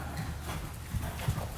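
Young sale horse trotting under a rider, its hooves landing in a quick, even clip-clop rhythm, fairly faint and close, with no talking.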